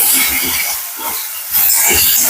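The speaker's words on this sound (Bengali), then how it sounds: "মশলাটা কষাবো" Spice paste fries in a pan with a loud, close, continuous sizzle and hiss that dips briefly when stirred, then swells back to full strength.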